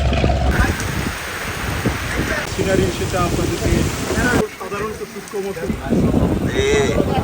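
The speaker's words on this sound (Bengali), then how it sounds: "মানে ভারী বৃষ্টি হচ্ছে" Heavy rain pours on a boat travelling the Pashur river, a dense, steady hiss and patter that fills the whole clip, with voices talking over it.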